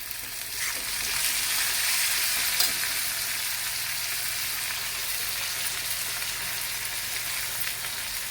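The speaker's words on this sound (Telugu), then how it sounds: "మునగాకు కడిగేసి పెట్టుకున్నాం కదండి, అది ఇందులో వేసేయాలి. ఇది మంచిగా ఫ్రై కావాలండి." Moringa leaves frying in a pan with lentils and turmeric for munagaku pappu, a steady, loud sizzling hiss that holds throughout with only slight swells, close up and with no voices.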